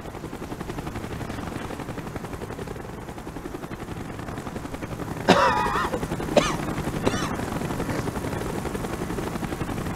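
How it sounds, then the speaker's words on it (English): A helicopter in Call of Duty: Black Ops whirs with steady, loud rotor chop throughout, joined midway by a few sharp bursts of gunfire. "Chopper's inbound. Move it."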